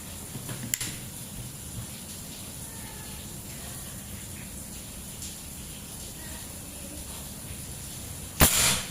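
A custom folding PCP air rifle with a 40 cm stainless seamless barrel at 3000 psi fires one sharp, loud crack near the end, after a long quiet stretch with a faint earlier tick.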